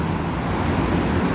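Steady, loud roar of road traffic on a Hong Kong street in Wan Chai, with a taxi rolling by, forming a continuous close wash of engine and tyre noise with no voices.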